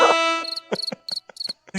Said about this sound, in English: Captain Ahab was a fucking cricket?